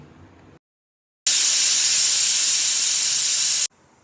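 A pressure cooker whistles while chickpeas and green peas cook in water with rock salt: one loud, steady, high hissing blast of steam lasting about two and a half seconds, following a quiet pause, with no talking.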